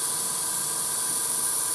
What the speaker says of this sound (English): The compressor is kicking in.